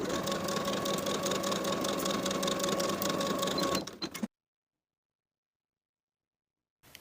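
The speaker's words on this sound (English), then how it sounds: "Now I'm going to sew along the innermost edges of my finishing stitches" A sewing machine stitching along the pocket seam of a jumpsuit, a close, steady mechanical whir with fast rhythmic clatter for about four seconds, then silence and a faint final knock.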